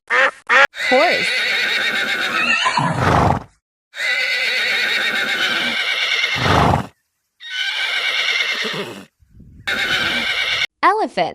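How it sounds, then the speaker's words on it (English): A horse neighs and whinnies loudly in repeated long, shaky calls with rising and falling pitch, several bursts in a row separated by short gaps, close and prominent. "Horse."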